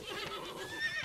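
A horse whinnies in the survival game Above Snakes: one wavering, high neigh at close range, holding a steady level through its brief length.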